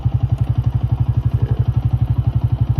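A motorcycle engine idles close by while the bike is loaded onto a river boat, giving a steady, loud, rapid pulsing beat with a slight mechanical clatter.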